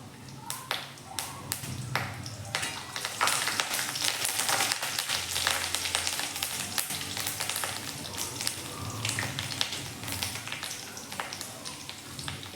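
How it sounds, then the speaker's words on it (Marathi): Curry leaves frying in hot oil with garlic in a pan while making beetroot laddu, a steady close sizzle with crackling throughout and scattered taps of a utensil. "आता आपण कढीपत्ता टाकून घेऊया थोडा."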